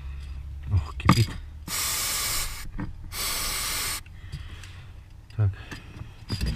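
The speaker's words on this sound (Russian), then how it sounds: "Попробуем побрызгать все соединительные там подвесной, втулочки, шток пробрызгаем, который ходит через резинку." Aerosol lubricant sprayed onto the clutch pedal joints, bushings and rod of a UAZ Patriot, two long hissing bursts of about a second each, with someone talking quietly between them.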